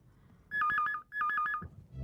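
A telephone rings twice in quick electronic trills, each burst about half a second long with a short gap between, fairly clear against a quiet room.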